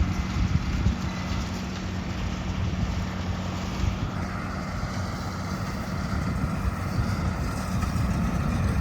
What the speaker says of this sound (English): Pumping out some nice bales.